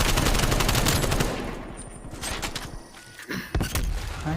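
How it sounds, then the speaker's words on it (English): An artillery strike in Call of Duty Black Ops Cold War lands as a dense, loud barrage of blasts for over a second, then thins into scattered, quieter impacts and thuds. "Turtle Beach just let go of a artillery really early in this game."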